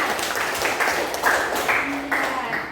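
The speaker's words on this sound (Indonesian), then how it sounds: "Beri tepuk tangan untuk teman kalian." Children in a classroom clap for a classmate, a loud, fairly close patter of hands with a few bursts of stronger clapping, while speech mixes in faintly.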